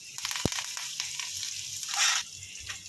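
Mustard seeds, cumin, urad dal, dried red chilies, asafoetida and curry leaves sizzle and crackle in hot oil for a cucumber lentil curry, with a sharp pop early on and a louder hissing burst partway through.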